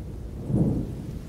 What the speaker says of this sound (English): I remember hearing the thunder define the far reaches of the valley as the storm passed over me